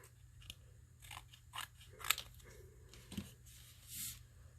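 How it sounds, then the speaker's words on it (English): Scissors snip off the top of a piece of material in a handful of quiet, close cuts, with soft crisp snipping and rustling against a low hum. "I'm going to cut the top off right here"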